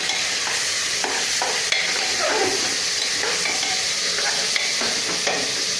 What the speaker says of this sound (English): Just have to keep on stirring it